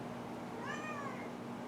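A new pet kitten named Logan gives a single drawn-out meow that rises and falls, alone and close by over a faint steady room hum.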